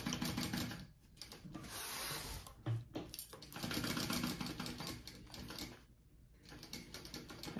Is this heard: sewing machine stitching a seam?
yes